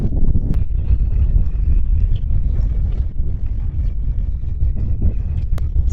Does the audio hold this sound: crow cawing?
no